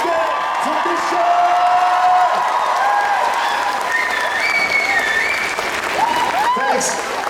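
A crowd at Dutch Comic Con breaks into sustained applause and cheering, with dense clapping, whoops and shouts filling the space while a voice calls out over the noise.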